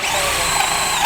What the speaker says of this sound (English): And we're gonna drill the center out.